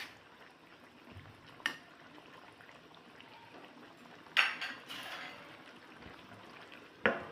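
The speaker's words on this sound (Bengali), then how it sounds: "পনিরগুলো দিয়ে 5 মিনিট ফুটিয়ে নেব আর নামিয়ে দেবো" Chilli paneer cubes simmer in sauce in a home kitchen, a soft steady bubbling hiss broken by a few sharp clinks of a spoon against the pan.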